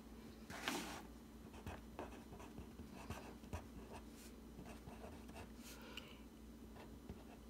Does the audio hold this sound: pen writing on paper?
yes